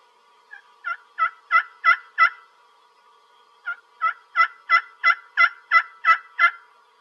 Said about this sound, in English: Here's the plain yelp.